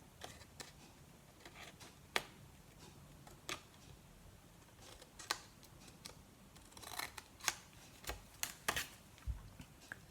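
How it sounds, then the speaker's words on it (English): Scissors cut squares away from scored cardstock for a mini card album, producing a series of sharp, quiet snips spaced irregularly, close up, with no talking. "I'm going to cut those 4 squares away on both sides."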